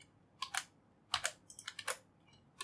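Fingers tap out code on a computer keyboard in a quiet room, three short bursts of crisp clicking keystrokes separated by brief pauses.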